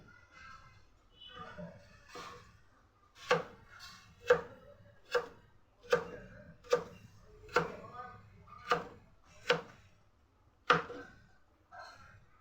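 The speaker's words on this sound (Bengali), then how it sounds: "এরকমভাবে লম্বা লম্বা করে আমি পুরো আলুটা কেটে নেব" A knife chops potatoes into thick, long strips on a board, about a dozen sharp, fairly evenly spaced cuts close by, with quiet background noise between strokes.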